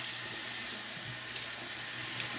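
Tap water runs steadily over a boar-bristle shaving brush, a continuous broadband hiss and splash at moderate level with no voices.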